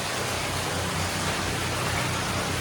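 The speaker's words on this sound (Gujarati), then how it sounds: "અહીંયા પણ પાણી આવે છે." Steady, dense rush of flowing water, continuous and fairly loud throughout, with no voices or other distinct sounds.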